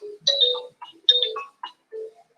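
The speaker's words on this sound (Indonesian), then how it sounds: "Oh ya, ringtone legend itu ya." A bright electronic phone ringtone plays a short melodic phrase of chirpy tones, clear and close with gaps between notes.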